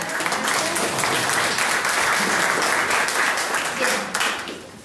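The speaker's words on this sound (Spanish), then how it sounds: "Un aplauso a todo lo que pasa." Sustained audience applause fills a lecture hall after a Spanish-language psychology talk, steady and fairly loud throughout, tapering slightly near the end with a brief swell.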